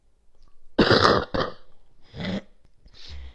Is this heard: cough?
yes